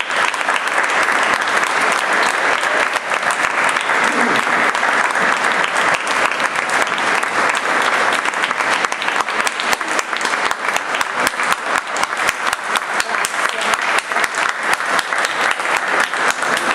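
Sustained, loud applause from a large audience at an evening theatre event in Sanremo greets the couple Maria Amelia Monti and Edoardo Erba, a dense, continuous roar of clapping that rolls on steadily without a break.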